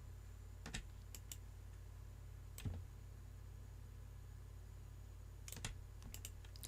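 Keyboard shortcuts are pressed on a computer keyboard while working in Blender: a few short bursts of clicky keystrokes, some in quick pairs and clusters, break a quiet steady hum.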